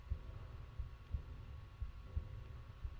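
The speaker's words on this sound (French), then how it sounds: "Il y a des battements de cœur, oui." A heartbeat effect from the Tomb Raider 2 video game thumps low and muffled in a steady rhythm, about five beats over a quiet, humming backdrop.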